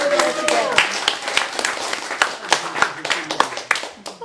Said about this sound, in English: And I think a big round of applause for Lydia Hutchison.